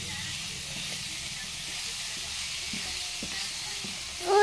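Steady sizzle of diet food frying in a pan while it is stirred, a continuous hiss with faint scraping ticks that swells louder at the very end.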